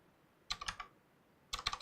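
Typing on a computer keyboard while searching online, heard as two short bursts of rapid key clicks, close and fairly quiet, separated by a second of near silence.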